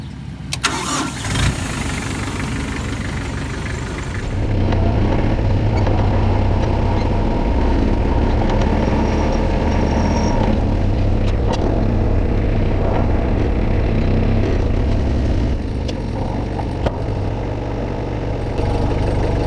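A farm tractor being readied for a hay spear cranks and fires up, then settles into a loud, steady running engine rumble that continues throughout, with no talking.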